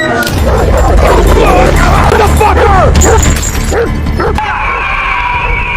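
A raging dog barks and yelps loudly in a zombie film scene, with crashing sounds and someone shouting over the frantic barks.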